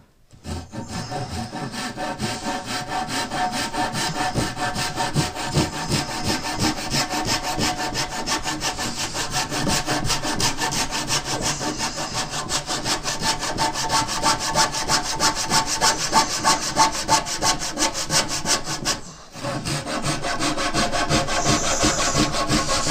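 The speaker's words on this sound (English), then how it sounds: "let me cut this board here real quick" Handsaw cutting through a wooden board without sawhorses, a loud, steady back-and-forth rasp of fast strokes that runs almost without pause, with one brief break near the end and no speech.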